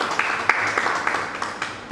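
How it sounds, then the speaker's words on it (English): A church congregation claps together as an offering, steady applause from a crowd with sharp individual claps poking through, fairly loud and close. "Let's give a clap offering to the Lord."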